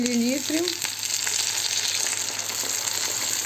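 Browned meat sizzles in a pan after a splash of water, giving a steady, bright frying hiss close by that lasts throughout. A brief tonal voice-like sound occurs at the start.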